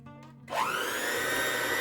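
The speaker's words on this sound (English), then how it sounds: "I'm going to use an electric hand mixer." An electric hand mixer switches on halfway through and whirs up to a steady, loud motor whine as it beats dark chocolate cake batter, heard close with no talking.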